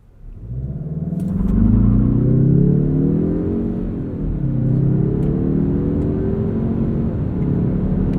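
A 2021 Mazda3 2.5 Turbo AWD hatchback accelerates hard from a standstill to 60 with traction control off, its engine droning up through the revs, dipping at a gear shift, then climbing again, heard from inside.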